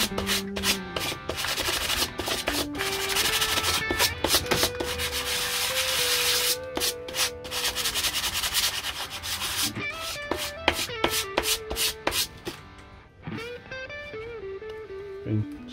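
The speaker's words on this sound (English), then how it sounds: "I left this sort of beveled edge here, so I'll get my sandpaper." Sandpaper rubbed over a beveled edge of styrene plastic sheet, close repeated rasping strokes in an uneven back-and-forth rhythm, with a tonal hum underneath and no talk.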